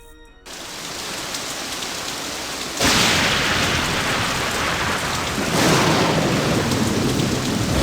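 Thunderstorm with steady heavy rain in a Nancy Drew video game set at a Victorian mansion in stormy San Francisco, a dense wash of rainfall with two deep rolls of thunder swelling in, and no voices.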